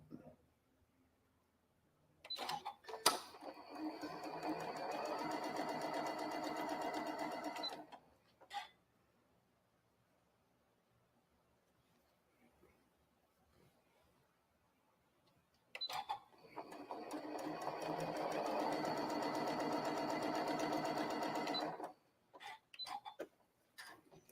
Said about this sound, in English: I'm going to sew those up